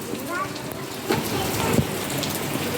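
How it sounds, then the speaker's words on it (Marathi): Steady rain falls around the town of Roha, a continuous hiss of drops on surfaces with a few louder patters, and faint voices can be heard underneath. "पाऊस आहे रोह्याला आम्ही आलो तेव्हापासून पाऊसच"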